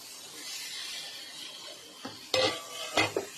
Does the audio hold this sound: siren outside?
no